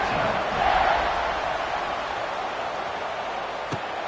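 A stadium crowd in a football video game sends up a broad, steady roar of cheering that swells briefly near the start, then holds as a dense wash of noise.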